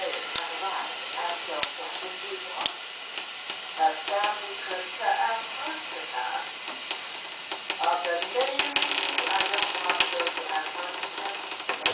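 Water heats in a kettle, a steady hiss with irregular crackles and sizzling pops that slowly build, heard close over several seconds while someone talks intermittently.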